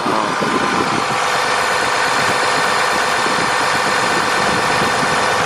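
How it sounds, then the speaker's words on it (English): A 2019 RAM 3500 Cummins diesel engine idles loudly and evenly nearby with the hood open, a constant broad clattering drone with no pauses. "With even the hood open, it's much quieter than the regular Cummins."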